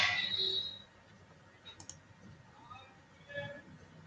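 Computer mouse clicks while selecting a custom date range for attendance in Microsoft Teams, a few soft, sparse clicks close by in a quiet room with faint background noise.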